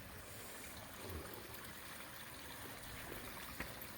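Steady, soft trickle of water running over a gravel-filled pondless waterfall in a landscaped garden with bark, a continuous gentle splash with no talking.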